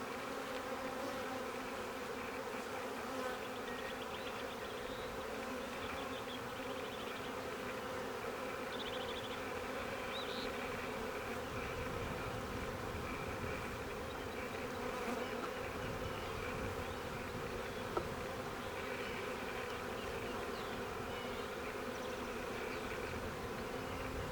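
Honey bees buzz steadily around an open hive during queen rearing, a dense, continuous hum of many insects that stays close and even throughout with no talking.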